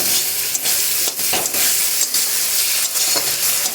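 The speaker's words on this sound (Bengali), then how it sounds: "চিনিটা দিয়ে টমেটোর সাথে ভালো করে কষিয়ে নিচ্ছি" Tomatoes and sugar fry and sizzle loudly in a pan for a sour fish dish, a continuous close hiss broken by occasional stirring scrapes.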